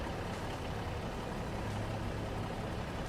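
Western Star truck in Farming Simulator 25 rumbling at a steady low idle, a continuous deep engine drone with no break and no talking.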